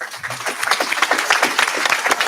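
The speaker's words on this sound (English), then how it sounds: "we can honor her with a big applause" Audience applause at an HSED/GED graduation ceremony at Moraine Park Technical College: a lively, fairly loud burst of many hands clapping together, building slightly over a couple of seconds.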